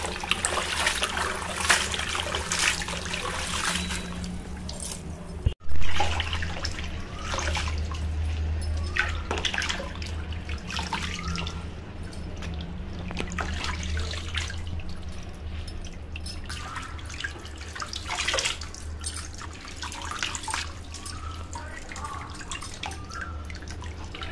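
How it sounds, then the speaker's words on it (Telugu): Gongura leaves being washed in a basin of water: steady dripping and soft trickling splashes throughout, close and moderately loud, with one sharp knock partway through and no talking. "ఇలా నీళ్ళలో వేసి క్లీన్గా కడుక్కున్నాను."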